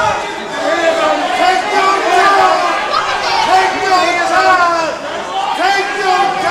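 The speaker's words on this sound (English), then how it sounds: "We got a loud crowd tonight." Loud, dense crowd chatter and hubbub fill an amateur MMA fight venue for the whole stretch, a steady roar of many voices during a first-round bout.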